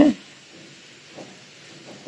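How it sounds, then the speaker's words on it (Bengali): Chicken frying in a pan gives off a quiet, steady sizzling hiss that runs throughout, with slightly louder crackles at the start and end. "চিকেন তো ভাজা হচ্ছে"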